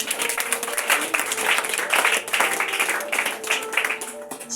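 A church congregation claps and cheers in a dense, continuous wave of applause that runs throughout, with voices mixed into the clapping.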